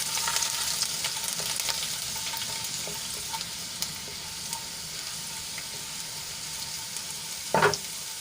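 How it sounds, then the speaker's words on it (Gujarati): Ten to twelve cut garlic cloves sautéing in hot oil with asafoetida, for a Gujarati spiny gourd (kantola) curry, give a steady close sizzle and crackle with no talk, and a brief louder stir or clatter near the end. "અહીંયા મેં 10 થી 12 લસણની કળીને આ રીતે કટ કરી લીધી છે એ એડ કરી લઈશું અને તેલમાં થોડુંક સાંતળી લઈશું"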